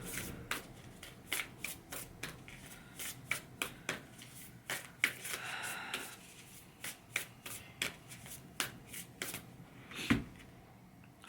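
Oracle cards from the Sacred Destiny Oracle deck are shuffled in a steady run of crisp riffles and soft flicks, close and fairly quiet, with no talking.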